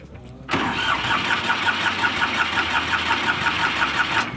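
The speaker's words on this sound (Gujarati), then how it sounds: "હવે પાછા જુઓ સેલેપ મારીએ છીએ ઉપડે કે નહીં" A Ford 3600 tractor engine cranks on its self-starter after a timing adjustment, giving a loud, close, rhythmic churning that starts abruptly and continues steadily without catching, then cuts off.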